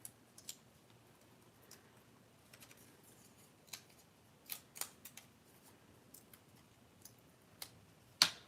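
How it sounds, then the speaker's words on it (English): Scissors cutting a paper arm shape out for a junk journal ticket give sparse, close snips and clicks scattered irregularly, ending in one louder cut, with no speech. "I'm just going to cut the arm out again."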